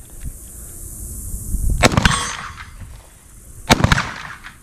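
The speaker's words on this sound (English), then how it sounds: "The Glock 40. The only Glock I never have been able to shoot fast" Two sharp, loud pistol shots from a Glock .40 at a winter practice session, about two seconds apart, each with a short ringing tail and no talk.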